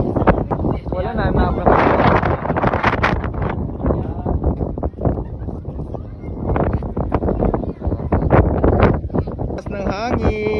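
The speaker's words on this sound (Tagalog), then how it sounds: "Lakas ng hangin." Strong wind blows hard across the microphone outdoors in Ilocos Norte, a loud, gusting roar with people talking over it throughout.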